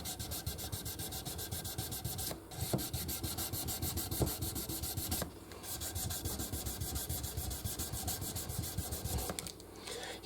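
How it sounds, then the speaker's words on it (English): Strat guitar neck being sanded by hand with 400 grit sandpaper, close steady rhythmic rubbing strokes that run almost without pause, with two brief breaks. "400 grit sandpaper on this right here."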